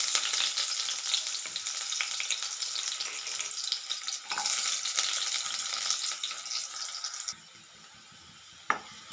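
Onions fry in oil in a kadai for a ridge gourd chutney, a dense steady sizzle that stops abruptly near the end, followed by a single light knock.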